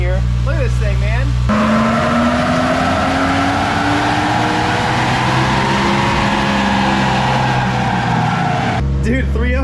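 A 1JZ-swapped Toyota Hilux roars on a dyno, the engine climbing in a long sustained pull with a rising pitch, very loud and close, then cutting back to a lumpy idle at the end.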